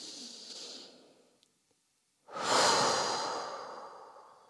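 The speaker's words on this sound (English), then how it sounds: "give yourself one calming breath, breathing in through your nose and softly out the mouth." A slow calming breath at the close of a yin yoga session: a soft inhale through the nose fades out, a brief pause, then a fuller, breathy exhale through the mouth, close and quiet.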